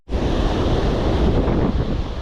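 Gentle surf washing in at a river mouth, a steady broad rush of low waves with wind buffeting the microphone, continuous and fairly loud with no voices.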